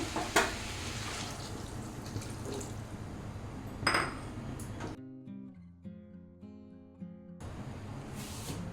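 Fried potatoes being stirred in a pan for a fig curry, with steady sizzling and scraping up close, briefly cut by a short musical interlude before the frying noise returns.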